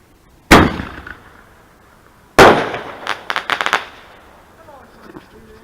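Fireworks go off outdoors: two loud, sharp blasts a couple of seconds apart, followed by a rapid crackling burst of smaller pops that fades into quiet with a faint voice.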